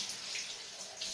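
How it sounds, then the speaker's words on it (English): Hot tap water running steadily into a sink while hands are washed, a soft continuous hiss and splash, faint and close with no voices. "I just washed my hands with hot water."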